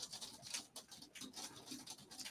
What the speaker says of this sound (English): That is hail. That is not rain, y'all.